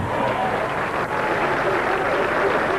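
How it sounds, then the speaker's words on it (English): A crowd at a 1992 professional bowling tournament applauds and cheers, a dense, steady wash of clapping and crowd noise throughout the short moment. "Crowd really getting into it now."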